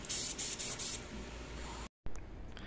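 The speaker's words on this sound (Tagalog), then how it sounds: "air gun, yung lalabasan ng hangin galing sa compressor" A homemade powder coating gun, an air gun fed from a compressor, sprays with a loud, steady hiss that pulses a few times, cuts off briefly, then resumes.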